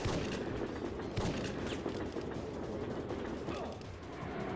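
Dense, continuous gunfire and booming blasts from the Syphon Filter video game, loud and unbroken for several seconds with no clear pauses.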